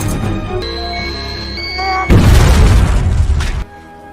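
A loud booming explosion of trackers on characters' bodies in a film scene bursts over a sustained musical score, a thick roar lasting over a second before cutting off abruptly.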